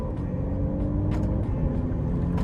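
A 2023 Alfa Romeo Giulia sport sedan with a ZF torque-converter automatic pulls under light throttle, a dense low engine drone and road rumble heard from inside the cabin, steady and fairly loud with no voices.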